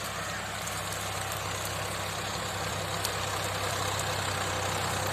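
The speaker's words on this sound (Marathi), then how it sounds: "अशा पद्धतीनं जॉन्डियर ट्रॅक्टर आहे ताकद ताकदीचा ट्रॅक्टर आहे" A John Deere tractor running a rotavator through a rain-soaked field, its engine droning steadily at a constant low rumble, close and unbroken, with no voices.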